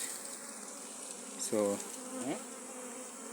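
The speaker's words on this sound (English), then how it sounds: "bees are in here" Bees hidden inside an old duck's nest box drone in a steady, dense buzz throughout as the box is opened for hive removal, while someone briefly speaks partway through.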